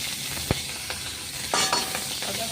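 Ginger and green chili hitting hot oil for a Bengali fish curry, with a soft steady sizzle and a few sharp clatters of stirring, the frying swelling briefly midway; no one speaks.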